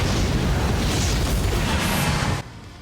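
A soul bomb explosion in the video game Bleach Brave Souls: a loud, sustained rumbling blast that fills the mix for over two seconds, then cuts off abruptly to quieter background.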